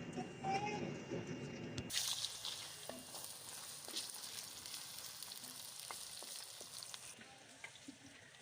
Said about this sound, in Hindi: घी गर्म हो गया है, प्याज ऐड कर देते हैं।